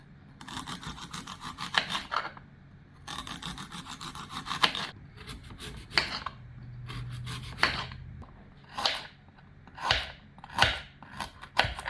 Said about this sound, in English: all I'm going to do is very thinly slice each one